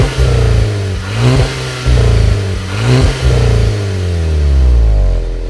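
A Volkswagen Golf GTI MK6 engine revs repeatedly through its twin exhausts, three or four rising blips dropping back to idle, then a longer sustained rev, loud and close with no talk.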